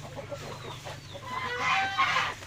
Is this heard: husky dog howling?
no